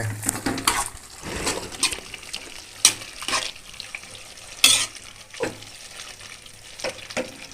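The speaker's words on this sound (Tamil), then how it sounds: "இப்போ நம்ம பிசைஞ்சு வச்சுருக்கிற உருளைக்கிழங்கை இதில் ஆட் பண்ணிட்டோம் இப்போ நல்லா மிக்ஸ் பண்ணிக்கங்க" Mashed potato stirred into a pot of boiling gravy for poori masala, giving intermittent scraping and wet sloshing strokes with a soft bubbling simmer beneath, fairly close and moderately loud, with no talking.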